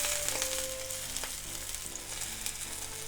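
Teriyaki salmon pieces fry in a pan with a loud, continuous sizzle and crackle, close up and steady throughout, with a low background hum underneath.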